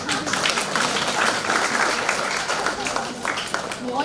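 Audience at a college orientation program giving a round of scattered clapping, a dense, steady patter of many hands for a few seconds mixed with murmuring voices.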